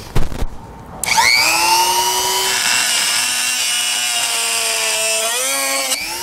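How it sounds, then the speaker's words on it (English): Rotary tool fitted with a cutting blade slicing through ATV plastic while fitting a Bulldog Winch Powersports Series winch to a 2014 Polaris; a steady, close, high-pitched whine holds for about five seconds after a brief startup, with no talking. "I'm just going to use a rotary tool with a cutting blade to get that done."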